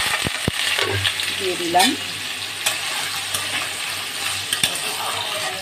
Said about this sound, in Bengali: এদিকে তেল বসিয়ে তাতে ফোড়ন দিয়ে দিচ্ছি তেজপাতা, গোটা জিরে আর গোটা গরম মশলা